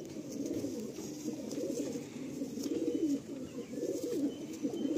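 Pigeons coo in low, repeated, rolling phrases from nearby birds, fairly soft and continuous, with faint background noise.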